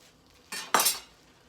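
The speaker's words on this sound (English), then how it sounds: "I'm gonna slice it as thin as I can" A knife cuts through beef, slicing it as thin as possible for jerky: two quick close scraping strokes, the second louder and longer, with quiet before and after.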